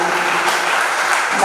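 Audience applause greeting a guest at a Rashtra Chetna Yatra gathering in Gurgaon, Haryana: a brief, dense burst of many hands clapping together at close range.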